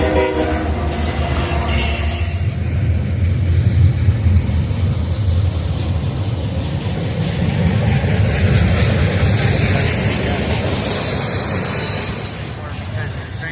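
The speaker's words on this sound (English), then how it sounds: "a westbound Norfolk Southern intermodal train greets the audience" A loud westbound Norfolk Southern intermodal freight train rumbles past nearby with a horn blast at the start, squealing wheels and rolling clatter filling the air, fading slightly at the end.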